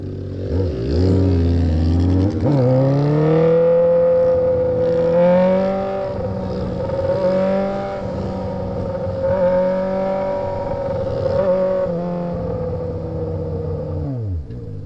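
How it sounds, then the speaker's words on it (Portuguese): A car accelerating hard, its engine rising in pitch through repeated gear changes with a brief dip between shifts, loud and close for most of the stretch before dropping away at the end. "Acelerando."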